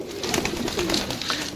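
Pigeons offered for sale in Sarai Alamgir, Jhelum, Pakistan coo close by in several soft, rolling low calls that overlap and repeat across the short span.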